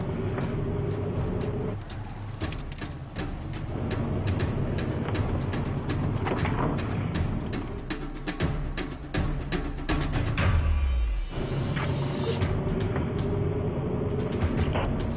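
A car drives steadily through a residential neighborhood, its engine and road noise a continuous mid-level hum, with a brief swelling pass of another vehicle near the end.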